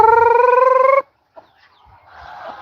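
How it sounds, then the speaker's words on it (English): A white rooster on a farm in Aklan gives a loud, sustained crowing call for about a second, followed by near silence and then faint clucking and background noise. "Here comes a white rooster."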